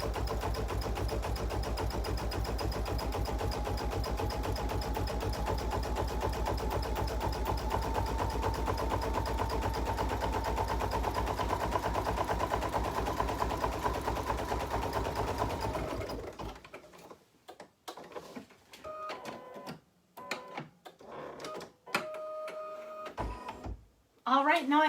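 Computerized embroidery machine stitching a satin stitch border, a steady rapid mechanical hum and needle rattle for about sixteen seconds, then stopping, followed by quieter handling noises and brief beeps.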